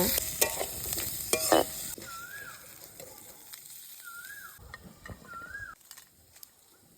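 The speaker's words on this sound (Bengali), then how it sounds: "কাঁঠাল দিয়ে পাঁচ মিনিট ভেজে নিয়ে তাতে দিয়ে দেব পেঁয়াজ রসুন আর শুকনো লঙ্কা পেঁয়াজ রসুন লাল করে ভাজা হয়ে গেলে তুলে নেব" Onion, garlic and dried red chillies fry in a pan with jackfruit for a mashed jackfruit dish. A soft, fairly quiet sizzle is broken by a burst of stirring clicks early on, and a few brief bird-like chirps come from the background.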